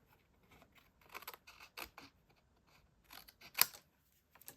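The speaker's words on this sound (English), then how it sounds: "We can just trim this off the back." Scissors trimming the excess paper card off the back of a heat-embossed stamped card, a few short, quiet snips and crisp paper rustles close by, with one sharper cut near the end.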